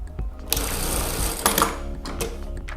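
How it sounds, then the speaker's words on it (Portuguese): Sewing machine running continuously as it stitches a seam on a lace Chanel-style panty, a steady mechanical whir with brief bursts of faster stitching, close and alone. "faz a costura aqui embaixo"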